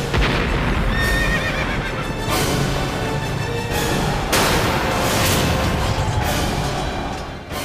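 Cavalry horses neighing and whinnying loudly over a dense rumble of galloping hooves, with repeated whinnies rising above a constant battlefield roar throughout.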